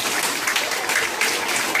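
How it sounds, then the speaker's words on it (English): A crowd at a 2014 sports awards gathering claps steadily in a dense, continuous round of applause that fills the room at moderate volume. "One more round of applause"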